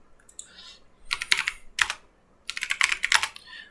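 Typing on a computer keyboard: close, crisp bursts of rapid key clicks in two clusters separated by short pauses, quiet between the bursts.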